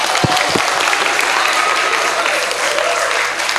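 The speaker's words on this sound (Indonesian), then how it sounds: "Oh ya, tepuk tangan untuk Arya." A crowd at an Islamic boarding school welcoming new students gives a full round of steady applause for a new student. The clapping is loud and continuous from start to finish, with a couple of sharper claps near the beginning.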